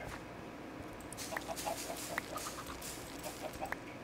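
Chickens in the Minecraft modpack FTB StoneBlock 3 clucking faintly in the game, a few short, scattered clucks over quiet background hum, with no talk.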